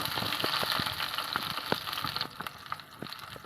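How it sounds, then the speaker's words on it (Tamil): Curry leaves and coriander fry and sizzle in hot oil for a carp gravy, a dense steady crackle with scattered sharp pops, loud and close, thinning slightly toward the end. "அந்த ஸ்டேஜில் நம்ம கருவேப்பிலை கொஞ்சம் கொத்தமல்லி இதை போட்டு கொஞ்சம் வதக்கிக்கிறோம்."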